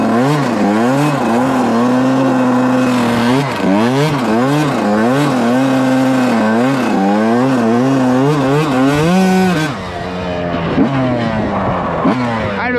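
A Yamaha YZ 125 two-stroke dirt bike revs hard and repeatedly as it is ridden on a private road, the engine pitch climbing and dropping in quick cycles before easing off near the end.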